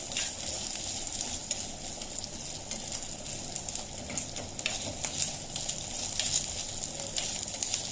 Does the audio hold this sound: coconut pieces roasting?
yes